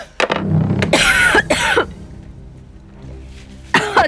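A woman coughs in several sharp bursts after eating hot sauce, with throat-clearing and heavy breathing in between, close and loud.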